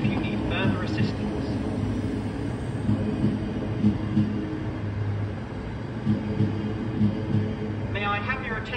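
A Thameslink Class 700 electric train, unit 700 107, running from Brighton to Cambridge, rumbles into a station with a steady low drone and rising hiss, station announcements sounding over it.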